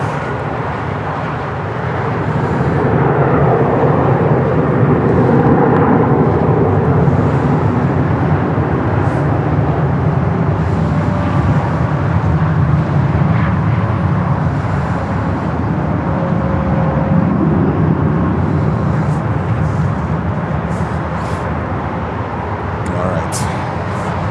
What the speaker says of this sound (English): This one is full throttle on the runway.